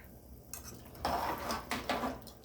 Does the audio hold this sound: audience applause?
no